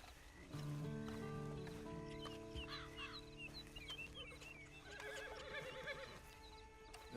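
A horse neighs and whinnies in Red Dead Redemption 2 over game ambience, with hoof clip-clops and faint fowl clucking nearby; a continuous layered scene with no talk.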